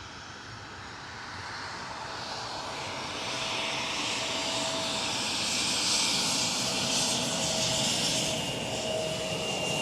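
A KLM Cityhopper Embraer E175 jet at Schiphol Amsterdam, its engine roar steady and broad, swelling slightly louder midway and holding with a faint whine on top, heard alone without talk.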